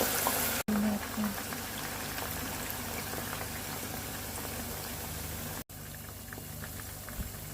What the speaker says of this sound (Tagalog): Ang tagal niya pala ma-deep fry.